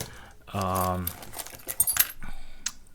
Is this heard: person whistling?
no